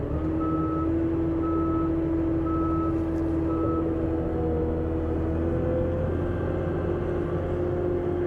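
An Avant 860i compact loader pulls away on an overcast day, its reversing alarm sounding a few evenly spaced beeps over a steady, loud engine drone that continues without talk.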